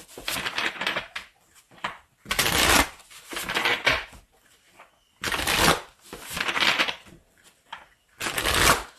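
Tarot cards shuffled by hand in several quick bursts of riffling and crisp shuffling, each a second or so long with short pauses between, close and clear with no talk.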